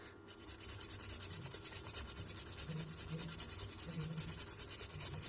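A toothbrush scrubs the gears of a Bafang bicycle hub motor, giving a steady, close rapid brushing rasp with a fast back-and-forth rhythm throughout and no talking.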